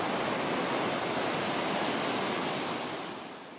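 Water roars through the Harvey Creek debris flow dam near Lions Bay, fed by snowmelt, a loud, close, steady rushing wash that fades slightly at the end.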